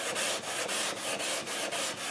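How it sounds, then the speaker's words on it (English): Sandpaper rubs back and forth across a surface in quick, even strokes, a regular scratchy swish repeating about four times a second, close and alone. "in the middle I'm kind of overlapping my sanding"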